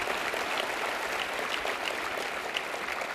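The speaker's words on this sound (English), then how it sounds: "a round of applause for Governor Rendell" Audience applause at a business travel convention's Sunday night welcome session for Governor Rendell, a steady, dense wash of clapping from a crowd, continuous and moderately distant for the whole stretch with no talk over it.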